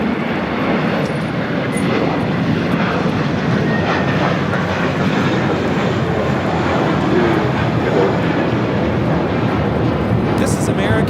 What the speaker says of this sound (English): This is American Airlines Flight 2 taking off to JFK on the A321.